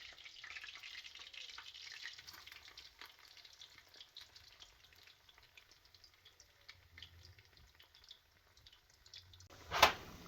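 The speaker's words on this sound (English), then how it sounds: "It doesn't take long for them to fry." Bammy pieces, cassava flatbread dipped in milk, fry in hot oil with a soft, steady sizzle and light crackle, fairly quiet and close, ending in a sharp clatter.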